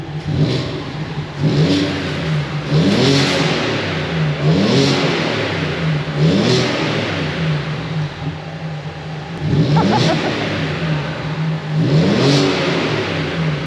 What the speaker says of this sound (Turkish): Ve marşa basıyorum arkadaşlar.